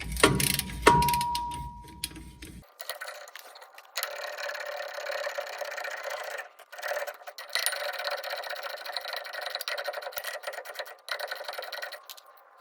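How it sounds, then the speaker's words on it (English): Breaker bar with an 18mm socket loosening transmission mount bolts under a 1997 Mazda B2300 with the M5OD manual gearbox, giving a steady run of metallic ratcheting clicks, close and moderately loud, after a brief opening knock. "Now using a breaker bar and the 18mm, just breaking these bolts free."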